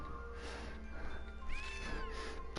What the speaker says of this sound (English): that is actually a noise cats make